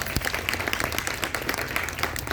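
Congregation at a Christmas church service in Baliguda clapping hands together in thanks, a dense, steady patter of many hands filling the room with no pauses.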